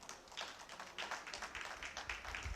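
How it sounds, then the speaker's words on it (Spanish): A church congregation claps to welcome a sister during a Spanish-language service, producing a brisk, steady run of sharp hand claps that fill the room without speech. "Dale palmas, Señor."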